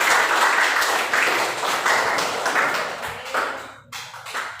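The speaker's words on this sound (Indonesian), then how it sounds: "Tepuk tangan untuk kita semua." A classroom full of people claps together in sustained applause for a few seconds, then it tapers off with a few scattered claps.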